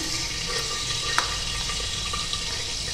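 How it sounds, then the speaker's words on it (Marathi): Whole cloves, cumin, cardamom, cinnamon and bay leaf sizzle as they are dropped into hot oil in a pan, giving a steady close frying hiss with a few soft clicks. "बघा मी खडा मसाला टाकून घेते लवंग आहे जिरे आहे वेलची आहे दालचिनी आहे"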